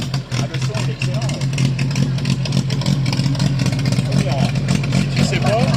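At a vintage car gathering, an old car's engine runs with a low, throbbing idle and occasional revving, loud and close, while people talk over it.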